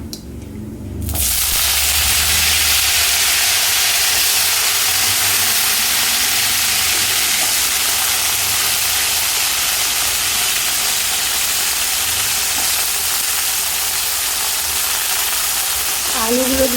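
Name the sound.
potatoes frying in a pan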